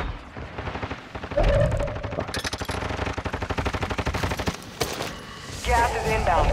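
Rapid automatic gunfire in Call of Duty: Modern Warfare II, a steady stream of loud shots in quick rhythm with short pauses and a few heavier booms, close and dominant with faint voice cues.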